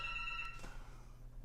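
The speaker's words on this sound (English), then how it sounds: "That was my phone ringing." A phone rings in a short electronic tone that repeats steadily and then stops abruptly, leaving a quiet room hum.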